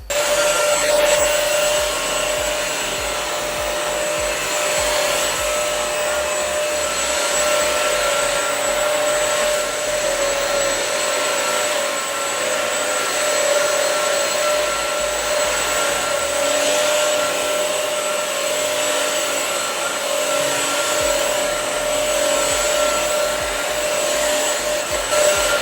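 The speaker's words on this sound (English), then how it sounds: "once I actually switch it on, you do realize that the noise of this is going to be pretty high" Prestige mop and vac running steadily at high volume, a continuous loud motor whine and airy hiss with a fixed tone, close up and unbroken for the whole stretch, no talking.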